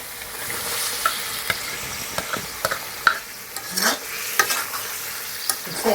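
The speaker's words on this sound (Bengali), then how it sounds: "এখন আমি আলু দিই, আলুগুলা ছেড়ে দিব, ভাজা আলুগুলা।" Fried potatoes tumble into a spice paste being cooked down in a pan for an egg curry, giving a steady sizzle broken by repeated scraping stirs and light utensil knocks, close and alone with no voices.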